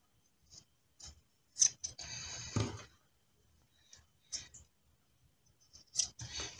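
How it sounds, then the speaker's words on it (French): Fabric scissors snipping the corners of a sewn shirt piece, a few separate close crisp cuts with brief slicing strokes and quiet gaps between them. "Maintenant je vais venir dégarnir mes angles et retourner ma pièce sur l'endroit."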